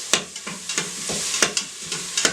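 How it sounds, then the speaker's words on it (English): Onion, garlic and ginger sautéing in a pan for a lentil soup, a soft continuous sizzle broken by regular scraping strokes of a spoon stirring, close and clear. "the onion, garlic, and ginger, and saute it until it's not quite"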